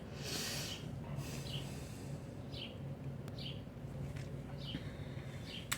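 Faint bird chirps repeat every second or so over a soft, steady outdoor hiss.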